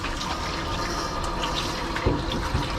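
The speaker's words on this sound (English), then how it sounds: "the clean soapy water is continuously running over them and getting rid of all that dirt" Running rinse water pours continuously over a Schnauzer during grooming, a steady, close, full-band gush of flowing water with no voices.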